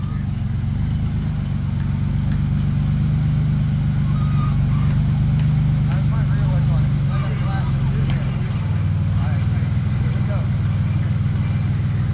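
A rock crawler's engine runs steadily through a loud, continuous low rumble during an extreme rock crawling event, with muffled crowd talk underneath, the revs swelling slightly near the middle as the vehicle pushes around on its rear tires.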